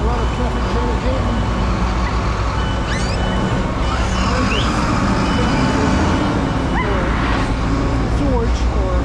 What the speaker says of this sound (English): A lot of traffic jam here.